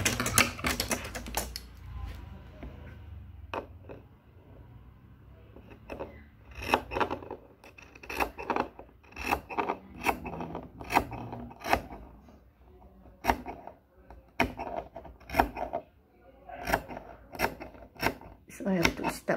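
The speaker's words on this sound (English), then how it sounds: "So I will cut from the top to here, up to there, to the stop line" Scissors snipping through blouse placket fabric, a long series of crisp, close cuts in uneven rhythm, with a person talking at times.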